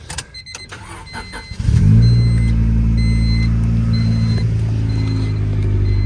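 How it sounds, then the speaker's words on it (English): After some clattering, a turbocharged car engine with a quiet custom exhaust fires up and settles into a loud, deep, steady rumbling idle with a throaty exhaust tone. "So I've got a pretty quiet exhaust on her"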